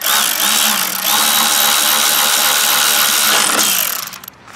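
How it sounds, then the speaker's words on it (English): A power tool runs at full, steady speed while bolting down a snow blower fuel tank, a loud continuous high-pitched whine with a slight pitch dip partway through, then spinning down briefly at the end. "So what remains is to bolt this tank down and make our hose connection"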